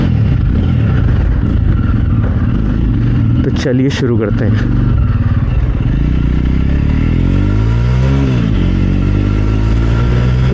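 Jawa 42 2.1 motorcycle on its stock exhaust, a low, steady single-cylinder thump running close by the whole time beneath someone talking.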